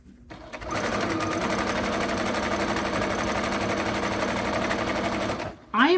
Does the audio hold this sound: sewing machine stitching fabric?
yes